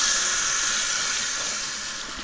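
Warm water runs from an indoor tap while a tie-dyed tee is rinsed, a steady, fairly loud hiss that eases off slightly toward the end.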